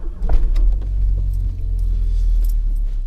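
Rover 820 Vitesse with a turbocharged T-series engine, a steady deep low rumble of the car idling or pulling away close by, with some light jangling and clicks on top and no talk.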